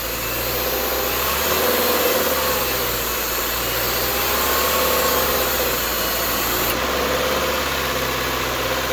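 A Subaru engine held at raised RPM during an air-conditioning recharge, a steady close mechanical drone with underlying vibration and a constant hiss, unbroken throughout.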